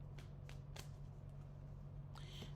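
Tarot cards being shuffled and drawn, giving a few quick papery riffles and slaps close by over a steady low hum, with a brighter flurry of card noise toward the end.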